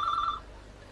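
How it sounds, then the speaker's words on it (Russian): A telephone bell rings in a short, loud electronic trill that stops abruptly partway through, leaving quiet room noise with no voices. "Ой, извините, телефон забыл выключить."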